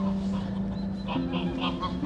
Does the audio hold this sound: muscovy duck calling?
yes